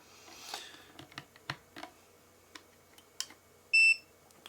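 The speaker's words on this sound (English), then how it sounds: "Beep." Brymen BM235 multimeter: one short, clear electronic beep near the end, after scattered faint clicks and handling taps in a quiet room.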